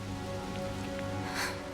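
Steady rain falling in Diablo IV, a dense even hiss with faint drips and a brief swell of spray, layered over a low droning game ambience; no one speaks.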